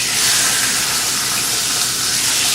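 Salmon fries skin-side down in a pan, a steady, loud, bright sizzle and hiss that holds evenly throughout with no talk.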